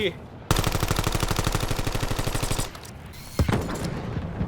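Rapid automatic fire from an MPC submachine gun in Black Ops 7 co-op play, delivered as one loud, evenly spaced burst of about two seconds, followed by a pause and a few more close shots amid game noise.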